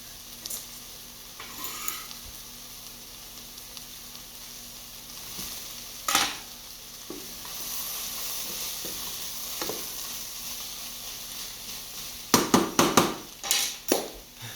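Mushrooms sizzle softly in a pan, a low continuous hiss broken by a few stirring scrapes and a cluster of sharp utensil clatters toward the end.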